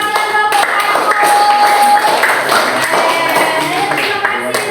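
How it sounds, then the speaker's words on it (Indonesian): A classroom of students claps for a group representative in a school history lesson, a dense, steady patter of many hands at close range, with voices mixed in throughout. "Tepuk tangan dulu untuk perwakilan kelompok 1."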